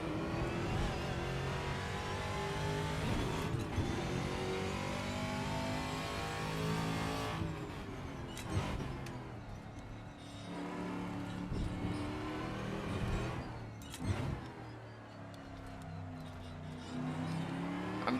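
A V8 Ford Mustang TA2 race car driven in the Assetto Corsa sim racing game, its engine droning and revving steadily throughout with gear changes and brief lifts, close and loud with no talk.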